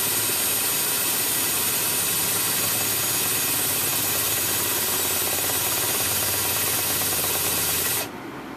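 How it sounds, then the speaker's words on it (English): A power drill with a masonry bit grinds steadily into a rock block, giving a loud, continuous rasping whine that holds for about eight seconds before cutting off abruptly. "And I drill into the block"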